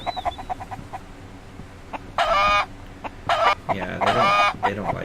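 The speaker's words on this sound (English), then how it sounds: "You better not eat my chickens." Chickens cluck and squawk in the survival game SALT, with several loud, harmonic bursts standing out against a low background hum and scattered quieter clucks.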